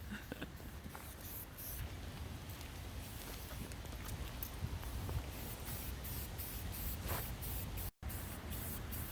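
A spray paint rattle can hisses in short and longer bursts while coating a mini bike frame, faint and close amid steady outdoor background noise.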